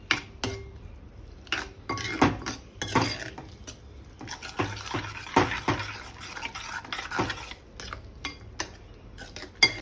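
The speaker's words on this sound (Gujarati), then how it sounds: "અને સરસ રીતે મિક્સ કરી દઈશું ફરી" Bottle gourd curry being stirred in a pot after salt goes in, with irregular clinks and scrapes of a metal spoon against the pan, fairly quiet and close, with no talk.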